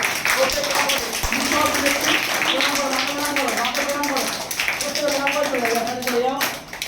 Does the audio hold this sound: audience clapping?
yes